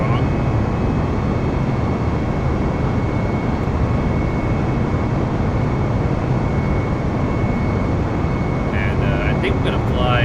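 Jet engines roar at full takeoff throttle in Microsoft Flight Simulator, departing Phoenix Sky Harbor International: a loud, steady broadband rumble that holds unbroken throughout, with a faint high whine riding on top.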